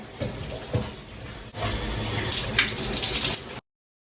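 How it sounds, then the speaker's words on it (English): Warm shower water runs steadily at close range, a soft splash that briefly dips and then returns as a fuller, brighter spray falling without pause until it cuts off. "Last thing I do before I fall asleep is take a nice warm shower."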